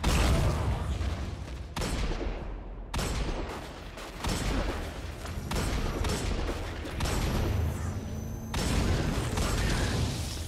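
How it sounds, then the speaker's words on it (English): Hand cannon gunfire in the video game Destiny 2, a series of loud, heavy shots and blasts in separate bursts with gaps between them, close and without voices. "Oh, that's right. I have a hand cannon now."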